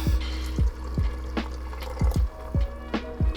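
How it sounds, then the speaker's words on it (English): Broth splashes and trickles into a risotto pan in several short pours and drips, close and fairly quiet, with no talking. "More broth."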